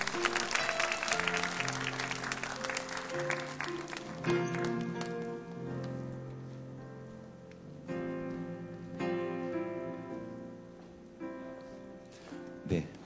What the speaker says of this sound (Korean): 우리 박수로 함께 앞으로 모셔보도록 하겠습니다